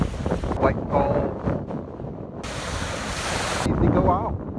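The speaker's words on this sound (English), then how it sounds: "But look at these dangerous looking waves." Large surf pounds the shore at Longboat Key, Florida, with heavy wind buffeting the microphone, a continuous roar of crashing waves and gusts, loud and close.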